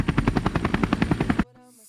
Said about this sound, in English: They're using a helicopter.